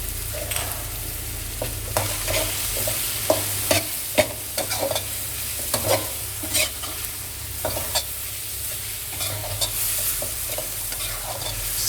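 Chicken is stirred in a pan with light soy sauce, ground pepper, sugar and seasonings for Thai garlic pepper chicken. A constant sizzle runs beneath repeated scraping and clacking strokes from the stirring, close and steady.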